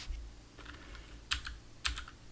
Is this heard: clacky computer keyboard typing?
yes